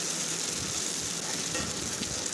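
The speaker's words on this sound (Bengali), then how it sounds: "ভালো মতো নাড়াচাড়া করে নিচ্ছি।" Onion, carrot and egg sizzle loudly in a frying pan while being stirred, a dense steady crackle close by with faint scraping and no speech.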